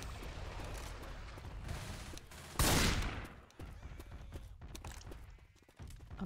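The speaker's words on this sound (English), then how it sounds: "machine gun." Gunfire in Left 4 Dead 2, a dense burst of rapid shots with a loud blast partway through over continuous game noise, no talk.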